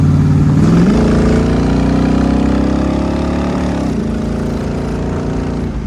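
A Backdraft Cobra replica car's engine revs up sharply, then holds a strong, steady drone close by, easing off slightly near the end.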